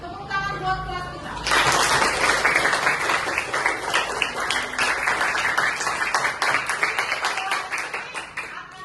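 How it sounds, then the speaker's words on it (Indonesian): A class of fifth-grade schoolchildren bursts into loud, dense clapping after a brief stretch of a teacher's voice, the applause continuing steadily and close up to the end. "Ya, tepuk tangan buat kelas kita."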